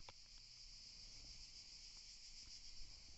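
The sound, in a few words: crickets chirping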